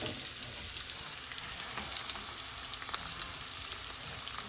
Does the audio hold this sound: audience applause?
no